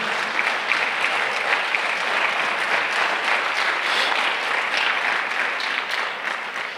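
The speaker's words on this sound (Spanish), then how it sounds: "Dale el aplauso al Señor" A church congregation applauds the Lord during a sermon, a steady, loud wash of many hands clapping together that fills the room without a break.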